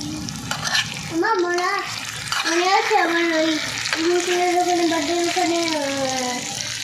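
Chicken pieces sautéing in oil for a chicken curry give off a continuous, close sizzle with occasional stirring noises, while a voice talks over it for most of the time.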